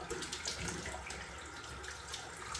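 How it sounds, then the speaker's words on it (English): Tap water runs steadily into a sink as a face is rinsed during a wet shave with Bay Rum, a continuous close splashing hiss with no talking. "Rinsing the face."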